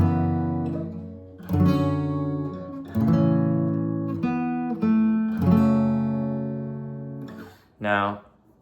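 An acoustic guitar plays the chord progression from a song, with clear strummed and plucked chords ringing out one after another and decaying between attacks, played solo with no voice.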